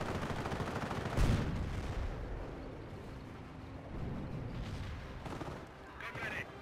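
Anti-tank gun and artillery fire rumble through a strategy video game battle, with a heavy boom near the start and more shots rolling on under steady background noise, while someone talks.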